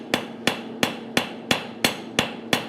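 A blacksmith's hammer strikes hot metal in a steady rhythm during forging, eight sharp ringing blows about a third of a second apart, close and loud.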